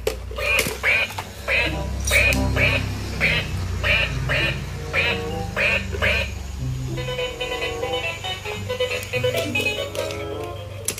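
Toy duck quacking: a run of about eight evenly spaced, nasal quacks close by, followed by quieter electronic tones, with a child-friendly narrator speaking at the same time.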